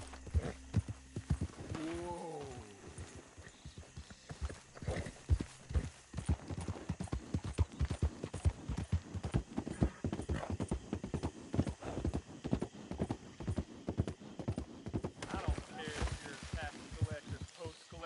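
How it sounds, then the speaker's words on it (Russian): Horse hooves clip-clop in a steady, brisk rhythm throughout a ride in Red Dead Redemption 2, with a brief neigh near the start and people talking over the hoofbeats. "до этого лошадь ехала быстрее."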